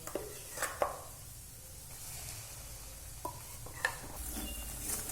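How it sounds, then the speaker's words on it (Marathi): A ground spice paste with shingori fries in a pan, giving a soft, low sizzle broken by a few light clinks and scrapes of stirring against the metal. "हे थोडं परतल्यानंतर वाटलेला मसाला घालून घेऊया"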